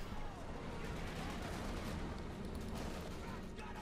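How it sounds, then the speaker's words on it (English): Panther tank and machine gun firing in a Company of Heroes 2 battle, a dense, continuous wash of distant gunfire and bursts blending together at moderate volume. "Panther firing away, machine gun also covering"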